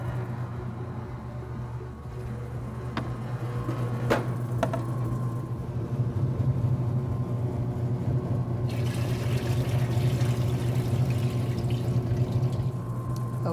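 Water emptied from a bucket during flushing of an Electro Freeze pressurized machine, a steady close pour over the machine's constant hum, with a brief clatter near the start and brighter splashing in the second half.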